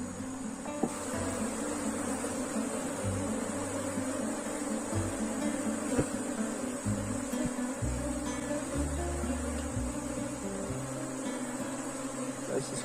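Honeybees hum steadily in a hive being cleaned during a colony split, a continuous close drone with occasional handling bumps and faint background voices.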